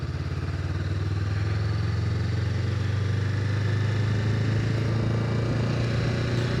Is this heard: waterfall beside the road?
no